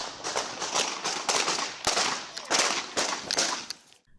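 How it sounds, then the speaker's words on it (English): Gunfire in a police shooting, a rapid series of sharp cracks and snaps in close succession that comes across as a burst of shots, mid-distance and fairly loud. "Gunfire broke out."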